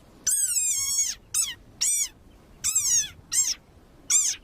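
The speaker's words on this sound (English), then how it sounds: "Like this desert rain frog. Squeaking viral sensation." A desert rain frog lets out six shrill, squeaky calls at close range, like a squeezed dog toy, in uneven bursts separated by short silences; the first call is the longest.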